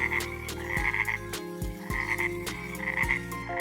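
A frog croaks from a pond among bulrushes, repeated deep rhythmic calls layered over a steady high trilling chorus, close and continuous throughout.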